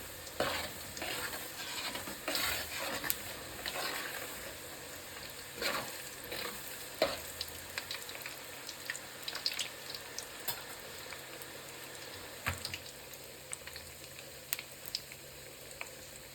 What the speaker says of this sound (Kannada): ಕಡಲೆಬೇಳೆ ಲೈಟಾಗಿ ಕಲರ್ ಚೇಂಜ್ ಆಗೋದಂತ ಫ್ರೈ ಮಾಡ್ಕೊಬೇಕು.